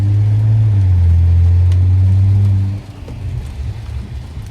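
A straight-piped BMW F10 driving in the rain gives a loud, deep droning exhaust rumble that holds steady for nearly three seconds, then drops away into softer road and rain noise.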